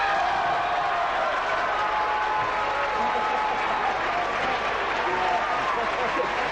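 A theatre audience applauds after a stage performance, steady unbroken clapping from a large crowd over several seconds, heard at a moderate distance without breaks.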